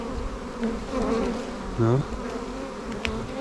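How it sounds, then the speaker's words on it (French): Honeybees hum in a dense, steady drone around an opened production hive as a super is set on top, one louder bee zipping close past the listener; a single brief word is spoken. "il y a beaucoup d'abeilles sur le dernier cadre"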